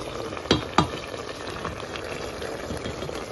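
Spinach and white radish curry with ginger, chili and spices frying in a pan: a steady, close sizzle with two sharp utensil knocks near the start, no talking.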